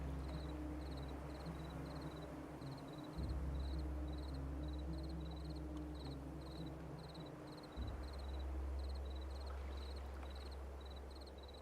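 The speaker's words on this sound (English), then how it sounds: "I'm just enjoying listening to like the fucking crickets in the game" Steady rhythmic chirping of crickets in a video game's ambience, a faint repeating pulse over a low constant hum, with no one talking.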